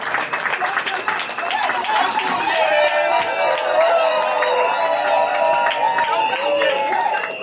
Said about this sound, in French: Levons-nous et applaudissons pour lui.